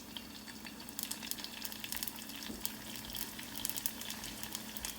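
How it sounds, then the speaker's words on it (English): Ramen noodle egg rolls fry in hot oil in a pot, a steady close crackling sizzle with scattered sharper pops throughout, no voices. "All right, so the ramen noodle egg rolls are cooking"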